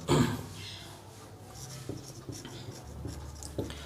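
A pen moves across paper up close as a definition is written by hand, producing a soft, continuous scratching with small taps and strokes over a low room hum.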